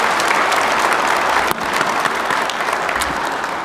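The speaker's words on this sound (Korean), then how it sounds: "우리 격려의 박수 한번 부탁드립니다" Audience applause for Ulsan's mayor at a public briefing on regional advanced industries, a dense, continuous clapping from a sizable crowd that holds steady and fades slightly near the end.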